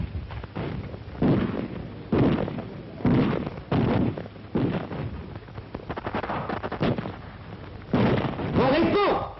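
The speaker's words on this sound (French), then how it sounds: "Des rafales traversent les places." Bursts of gunfire in the streets during the 1944 battle for the liberation of Paris, repeated sharp cracks and rattling volleys at varying distances, loud and rough on an old recording.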